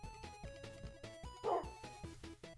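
A dog in Minecraft gives a short yelping bark around the middle, set against steady in-game music tones and soft background sounds.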